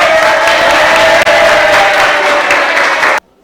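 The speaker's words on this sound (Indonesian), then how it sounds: "tepuk tangan buat Robi." A classroom full of students claps together, loud and dense, for about three seconds before stopping abruptly.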